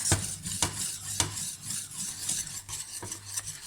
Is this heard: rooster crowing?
no